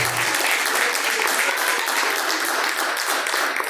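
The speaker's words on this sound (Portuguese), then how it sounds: "As palmas que louvam a Deus." A church congregation claps steadily in praise during a live worship service, a dense, even wash of many hands filling the whole stretch without pause.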